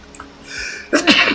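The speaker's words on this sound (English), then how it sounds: "Monero, on the other hand, sorry, sneezing." A single loud sneeze bursts out after a brief inhale, close to the listener and with no talking.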